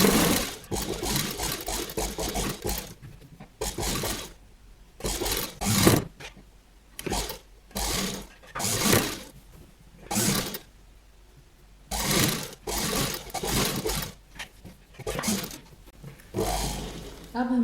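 A sewing machine stitches a kurti placket in repeated bursts, each run a fast buzzing whir separated by short pauses, close and fairly loud, with brief speech in between.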